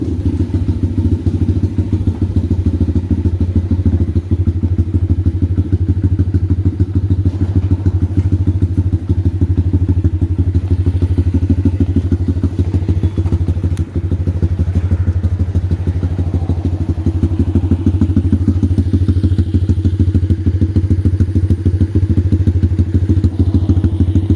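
An X-Pro dirt bike, started with two kicks and no choke, idles steadily close by with a loud, continuous low engine rumble and irregular thumping clatter throughout, no voices over it.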